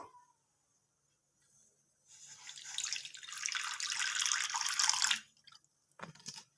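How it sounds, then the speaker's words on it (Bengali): Water pours into a wok set on the stove for making rice-flour pitha, a bright splashing rush lasting about three seconds before stopping, followed by a few small clinks. "কড়াতে আমি দেব কিছুটা জল"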